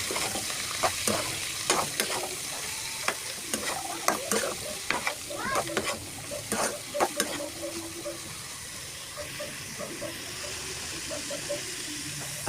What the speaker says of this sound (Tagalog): At ilagay na yung naka-slice na gulay ng pinakbet.